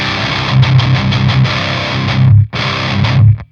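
Electric guitar through a heavy Thorn Magma distortion pedal with a built-in noise gate, chugging chords loud and close, cut off sharply once mid-phrase before resuming.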